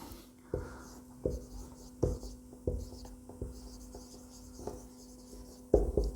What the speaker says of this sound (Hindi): तो मैं जरा इसको साफ करके लिखना चाहूँगा, इंटेरोगेटिव सेंटेंस